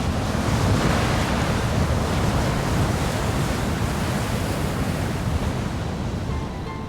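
Southern Ocean around Antarctica heard from a ship at sea: a steady, dense roar of waves and gusting wind, loud and unbroken for the whole stretch, with no voices.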